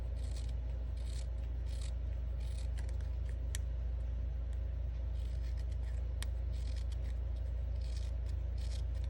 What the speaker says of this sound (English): So I'm trying to cut as close together as possible.